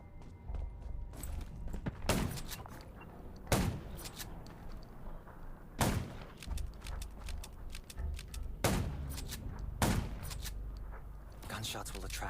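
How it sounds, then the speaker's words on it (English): Sharp gunshots fired at zombies in the video game Undawn, single loud cracks spaced a second or two apart over a rumbling game background. "Gunshots will attract more zombies."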